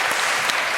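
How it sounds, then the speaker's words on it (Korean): Audience applause at a church talk concert, a brief wash of clapping from a crowd lasting under a second, fairly close and steady. "큰 박수로 한번 격려해 주시면"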